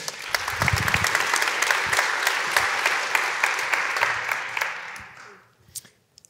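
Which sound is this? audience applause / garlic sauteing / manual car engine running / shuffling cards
audience applause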